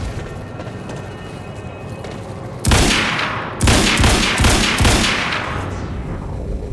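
Gunfire at barrels in the video game Quantum Break: two loud bursts of rapid shots over a low ambient background, each trailing off into echoing decay.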